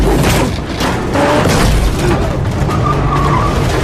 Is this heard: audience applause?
no